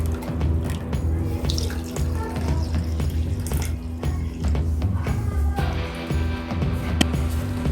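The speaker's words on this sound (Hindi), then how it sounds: "मैं इस कप से 1 कप पानी डालूंगी, वार्म वाटर" Warm water poured from a cup onto dry yeast in a kitchen while making banana bread dough, a steady splashing trickle with small drips, fairly close and alone.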